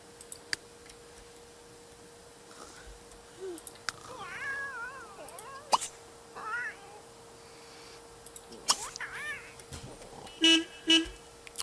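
A car horn in The Sims 3 honks in two short, loud bursts near the end, following meowing cat sounds and scattered game effects with no talk.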